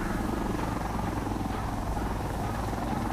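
A helicopter in the shooter game Insurgency Sandstorm roars overhead, a loud, steady rotor drone filling the whole moment without voices.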